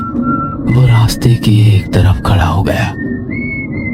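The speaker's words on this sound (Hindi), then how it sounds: "रात के सन्नाटे में उसकी सीटी की आवाज गूंज रही थी।" A man on a roadside at night whistles a thin, steady tune, faint at first and again at the end, while a narrator's voice speaks over the middle.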